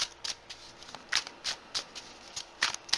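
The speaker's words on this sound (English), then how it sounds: "I just want to get a good shuffle on these cards before we put them back down on the table." Tarot cards being shuffled by hand at a table, a series of quick papery riffles and soft slaps coming in short bursts about every third of a second, close and fairly quiet with no talking.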